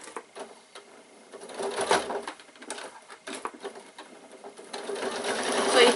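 A domestic sewing machine without a walking foot stitching the fabric of a baby bag near a seam join, running in steady bursts with a continuous whirr that builds toward the end.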